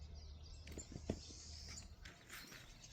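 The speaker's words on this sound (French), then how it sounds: "On entend les oiseaux," Birds call softly in a calm early-morning forest, faint scattered chirps and tweets over quiet ambience with a few light rustles.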